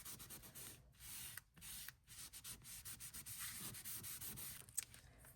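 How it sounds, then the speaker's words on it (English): A burnishing tool rubs down a glued photo in a memory-keeping journal, giving soft, faint scraping strokes in irregular bursts with brief pauses between them, close and quiet. "I like to use this to kind of rub that down, so we don't have any big bumps in there"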